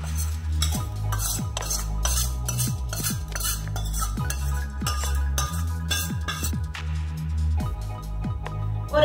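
Tempering is tipped into a pot of ven pongal and stirred. A spoon scrapes and knocks against the pot in a rhythmic series of close, loud strokes, with a light clink near the end.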